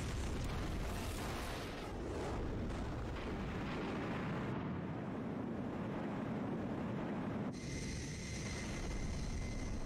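A missile blast in the mech shooter game Murakumo: Renegade Mech Pursuit, a loud, sustained roaring explosion of dense broadband noise that rumbles on for several seconds, with a brief shift in tone near the end.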